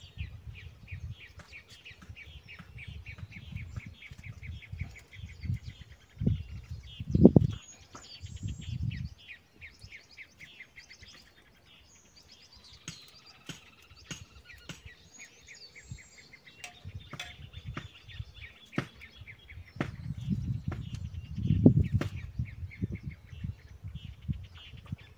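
Small birds chirp and tweet outdoors in repeated high, thin calls spread across the clip, fairly faint behind low rumbling handling noise and occasional knocks.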